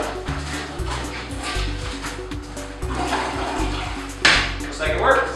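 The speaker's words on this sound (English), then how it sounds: "we can flush it, check for leaks" A newly installed toilet flushes with a rushing swirl of water, near and fairly loud, while a dog yips and a voice talks faintly underneath.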